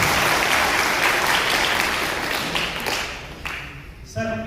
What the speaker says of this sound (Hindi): आप ताली बजाकर